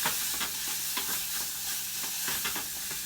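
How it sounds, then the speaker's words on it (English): Rice toasting with garlic in a hot pan for Spanish rice, a steady close sizzle and frying crackle with repeated scraping stirs throughout. "I'm going to toast that a little too, just to infuse the flavor"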